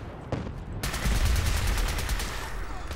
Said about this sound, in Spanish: No, no, oigo cohetes.